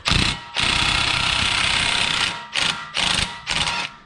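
Ratchet with a 36mm socket working a strut nut on a Jeep Renegade: a long, loud mechanical grinding run, then three shorter bursts with brief pauses between them.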